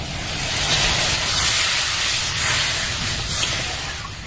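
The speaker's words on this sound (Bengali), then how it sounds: "মশলা কষানো হয়ে গেছে ভালোভাবে এর মধ্যে জল দিয়ে দেবো" Water poured onto hot fried spice paste in a pan gives a steady, loud, close sizzling hiss that holds evenly for a few seconds.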